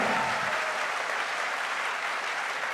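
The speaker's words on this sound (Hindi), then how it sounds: "एक बार जोरदार तालियां होनी चाहिए रूट प्योर के लिए" An audience at a direct-selling promotion ceremony claps loudly and continuously in a thick, even wash of applause lasting a few seconds.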